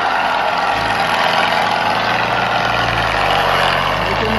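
A Mahindra Yuvo tractor engine drones loudly and steadily as it strains to pull a trolley loaded with sand, the low heavy rumble sustained without letup.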